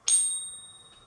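A struck American Silver Eagle silver bullion coin gives one bright, high ring. The ring starts sharply and fades slowly over about a second, clear and close with no talk.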